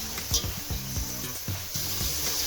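Ingredients for Coimbatore seeraga samba chicken biryani sauté in a pan with a constant bright sizzle, punctuated by low scraping thumps from stirring at irregular intervals.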